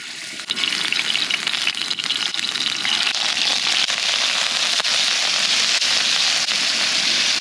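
Shrimp dropped into hot olive oil for scampi, bursting into a loud, dense, steady sizzle with crackling pops that continues without pause, close up and alone.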